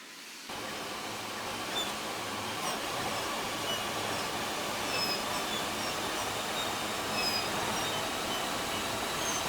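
A heavy steam locomotive in a video game rumbles steadily past nearby, a dense rolling roar with faint metallic squeals and clanks, continuous and loud throughout.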